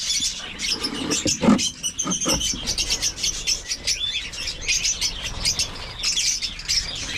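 African lovebirds kept in a breeding aviary chirp and tweet, with sharp, high, scattered calls overlapping in quick, irregular bursts, fairly close, and a few louder squawks near the start.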